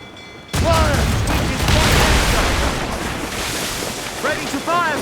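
A ship's cannon broadside in Assassin's Creed Rogue, a sudden loud roaring blast that rumbles on for seconds over sea and wind noise, with shouted voices breaking through near the start and end.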